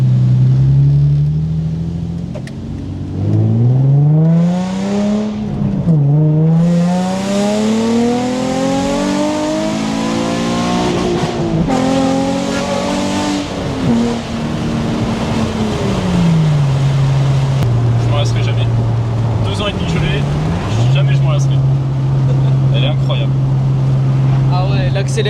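Naturally aspirated Nissan 350Z engine revving up through long pulls, its harmonics sweeping higher, dropping between gear changes and rising again before settling to a steady idle; loud and close, with occasional voices underneath.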